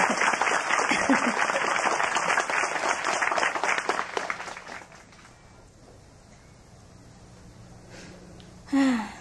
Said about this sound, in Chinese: 我休息一下了，可以拍手